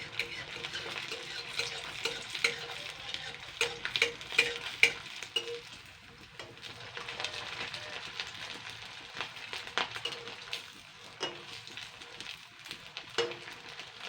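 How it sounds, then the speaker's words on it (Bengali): Rice pakoras frying in hot oil in a kadai, a soft steady sizzle with scattered clinks and stirring taps from a utensil, close by and fairly quiet. "এবার উল্টে পাল্টে ভেজে নেবো এগুলোকে।"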